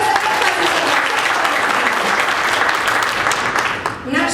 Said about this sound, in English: Yes, we can applaud for him.